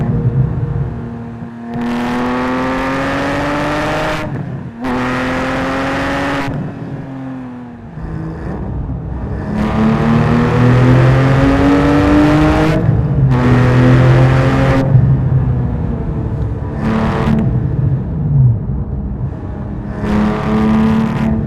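A loud Manthey M510 sports car's titanium exhaust in sport mode roars and revs repeatedly, rising and falling in pitch with sharp bursts and brief drops between pulls, close up.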